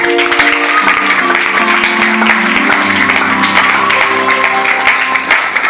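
A church congregation at Sunday worship applauds loudly and continuously, with dense rapid claps close by and a sustained held musical tone underneath.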